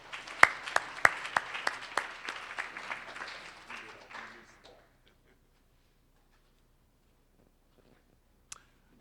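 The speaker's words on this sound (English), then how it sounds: "So big round of applause for Dr." A small audience at a county budget forum gives a short round of applause: sparse individual claps, sharp at first, thinning out and stopping after about four seconds, then near silence with one faint click.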